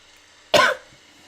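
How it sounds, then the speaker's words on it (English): A single short, sharp cough, close and sudden against near silence, fading quickly afterwards. "I'm sorry, I have a bit of a cough."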